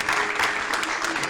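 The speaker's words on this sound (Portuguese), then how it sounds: "Uma salva de palmas para o Paulo." Audience clapping for Paulo at a talk, a brief burst of steady applause from a crowd, fairly close and dense.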